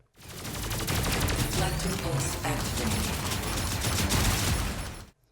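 Rapid gunfire from the Terminator 2D: No Fate video game, a dense continuous burst of snappy shots and explosions lasting several seconds, loud and close.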